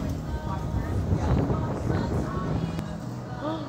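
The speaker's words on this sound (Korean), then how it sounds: "오늘 바람 진짜 세요" Strong wind gusting outdoors at a seating area, a steady broadband roar buffeting the microphone throughout, with faint background voices.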